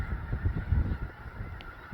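Geese honking out in a snowy field in February, a cluster of irregular calls fairly close and moderately loud, fading a little toward the end, with no voices.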